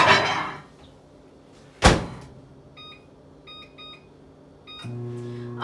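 Microwave oven door shut with a single loud thunk while jellied cranberry orange sauce cooks, followed by a series of short electronic keypad beeps and then the steady low hum of the oven starting up, with no talking.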